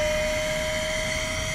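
A cordless DSKEUZEEW high-pressure pump runs on deflate, drawing air out of a drop-stitch kayak with a steady, loud motor whine and a constant high tone throughout, with no talking.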